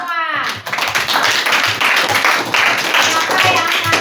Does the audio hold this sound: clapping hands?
yes